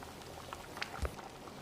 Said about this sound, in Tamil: சாம்பார் நல்லா கொதித்து வந்துருச்சு.